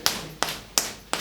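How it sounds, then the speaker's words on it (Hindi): Audience members tapping one finger against a palm in a rain clap, four crisp separate taps spaced about a third of a second apart, with no voices. "रेन क्लैप एक उंगली के साथ ताली बजाएंगे जरा थोड़ी देर के लिए"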